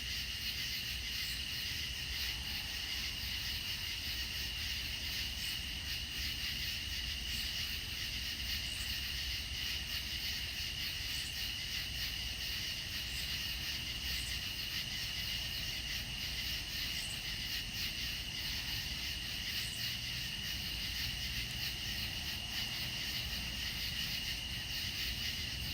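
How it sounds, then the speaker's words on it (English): Night insects, cicadas mixed with frogs, chirring in a steady, continuous chorus at moderate distance, with faint repeating chirps layered over a constant hiss and no talking. "So that's the music the cicadas play at night."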